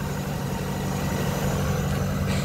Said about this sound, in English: Yeah, you can hear that turbo going too.